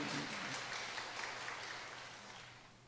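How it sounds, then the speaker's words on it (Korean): Audience applause for comedians at a Korean pastor's lecture, a dense, steady wash of clapping that stays full throughout and fades slightly toward the end, with no voices. "이 개그맨들을 위해서 박수 좀 한번 쳐줘."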